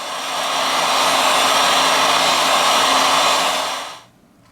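A heat gun or hair dryer blows steady heat onto a OnePlus 3 phone to loosen its battery: a loud, continuous, close airy roar that holds for about four seconds and then cuts off.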